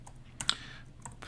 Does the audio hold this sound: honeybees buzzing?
no